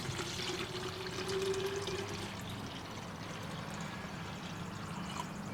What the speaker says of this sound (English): I'm going to just pour it in the container and hopefully it all fits.